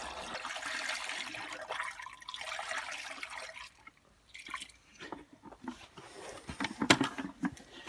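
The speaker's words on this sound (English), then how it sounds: "What I'll do now is put the bicarbonate of soda solution in to neutralise the acid." Bicarbonate of soda solution poured into a rusty fuel tank: a quiet steady liquid pour and trickle, then fading to scattered drips and small splashes close by.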